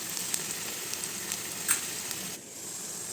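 Spices and turmeric sizzling in hot oil in a pan for a bachelor-style potato curry: a steady, faint frying hiss with a few small pops, easing off near the end.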